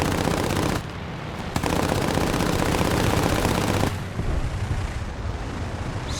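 Wing-mounted machine guns of a Ki-27 Otsu fighter firing in War Thunder air arcade: dense, continuous rattling fire blended with a roaring engine, loud and sustained for several seconds before easing slightly.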